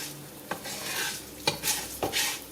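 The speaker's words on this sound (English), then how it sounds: "make sure it's coated in oil and move the rice around." Rice is stirred and toasted in oil in a pan, with a soft sizzle running underneath. Three distinct scraping strokes of the utensil stand out, and no voice is heard.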